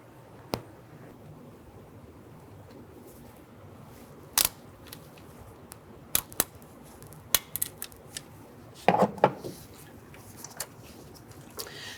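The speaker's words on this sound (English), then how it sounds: "Now we're just going to use our pliers and move that clamp down in a position." Pliers slide a hose clamp along an intake hose during a fuel injector job on a 1994-2004 Ford Mustang 3.8L V6. The sound is sparse, faint, sharp clicks and snaps spread over a quiet background.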